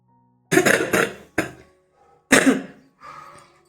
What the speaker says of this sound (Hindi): खांसी जा ही नहीं रहा है